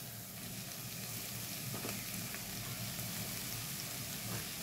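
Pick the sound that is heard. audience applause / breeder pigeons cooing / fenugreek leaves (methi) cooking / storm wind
fenugreek leaves (methi) cooking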